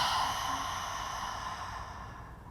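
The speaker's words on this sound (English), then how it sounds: "Exhale out mouth." A long, slow exhale through the mouth during a seated chair yoga breathing exercise, breathy and airy, fading gradually over a few seconds, with no talk over it.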